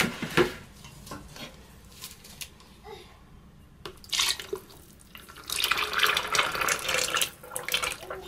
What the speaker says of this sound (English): I'm going to go ahead and pour it in to the other containers